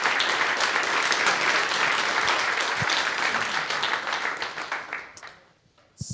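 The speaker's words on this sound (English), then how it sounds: "another round of applause to all the awesome innovation going on there" An audience at an email-app startup showcase conference applauds after the demos, with dense, steady clapping that tapers off over the last second and ends in near silence.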